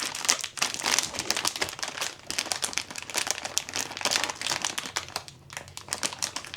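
Pop Mart blind box packaging is torn open close up: a continuous, dense crinkling and ripping of plastic wrap and foil that runs throughout at steady moderate loudness.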